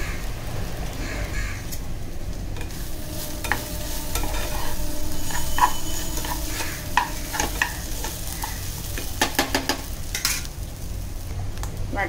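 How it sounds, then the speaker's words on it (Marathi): Garam masala paste with cinnamon and coriander being sautéed in a pan for a Malvani chickpea curry, giving a steady low sizzle with repeated scraping stir strokes and clinks close by, with crows cawing faintly in the background. "आता हे छान लालसर होईपर्यंत आपल्याला परतायचं आहे"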